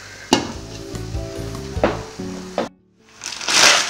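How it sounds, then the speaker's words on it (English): Meat and egusi spinach sauce bubbles in a pot with a soft sizzle, broken by several sharp knocks of a spoon against the pot as it is stirred, then a brief lull. "So it's all stirred in, and we allow this to cook, to blend the meat and the sauce together."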